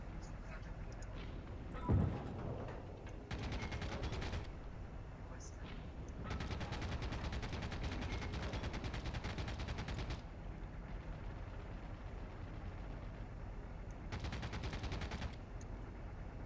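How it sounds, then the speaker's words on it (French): Gunfire crackles near the player in the video game Heroes & Generals, coming in repeated bursts of rapid shots that are fairly distant and sustained, with a sharp thump early on and voice chat underneath. "Tire près de moi, mais je sais pas où."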